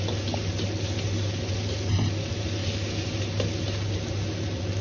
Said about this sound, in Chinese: 接着下入切好的肉絲煸炒